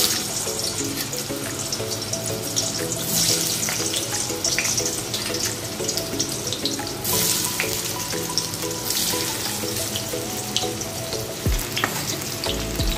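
Potato pieces frying in hot oil give a dense, continuous sizzle that holds steady and close, with faint clinks and a brief watery splash near the end, no talking.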